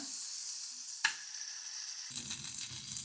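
Butter sizzling in a hot pan while eggs are being cooked, a steady bright hiss that runs throughout, with a brief clink near one second and a low rumble of stirring toward the end.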